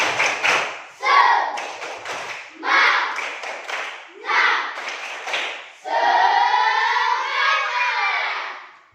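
A classroom of students does a spirit clap, a patterned run of bursts of hand claps and taps with chanting voices, several rhythmic groups close together, ending in a longer sustained stretch of group sound.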